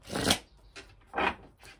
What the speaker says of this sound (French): Allez, on va prendre une carte.